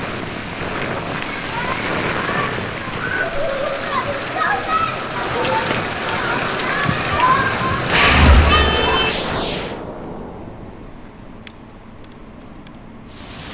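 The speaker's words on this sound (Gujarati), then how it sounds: "ધોધમાર વરસાદ વરસી રહ્યો છે" Heavy monsoon rain pours down steadily in Gujarat, a dense continuous hiss of drops on surfaces and running water that cuts off abruptly near the end.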